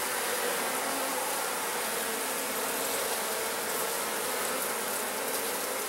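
Honeybees swarm-thick at an open, heavily populated beehive give off a dense, steady buzzing drone, loud and close, continuous without pause and with no talk.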